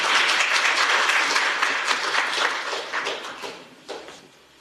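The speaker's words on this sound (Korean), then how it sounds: "박수 부탁드리겠습니다." An audience at a Korean forum on handball and sports betting applauds an introduced guest, dense clapping that starts full and then thins and fades toward the end, with a few scattered claps trailing off.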